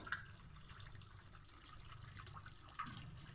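Water runs steadily from a tap, a soft continuous hiss with a few faint clinks, fairly quiet and with no voices.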